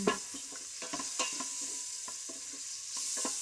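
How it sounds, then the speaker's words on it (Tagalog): Scraping and clinking of a utensil stirring soup in a metal pot, irregular taps over a continuous background sizzle of cooking food. "ang ingay ng ating kasirola"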